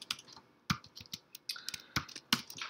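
Close-up clatter of code being typed on a computer keyboard, irregular clicks and a few sharper key strikes in quick bursts, no talking.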